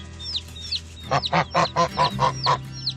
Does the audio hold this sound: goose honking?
yes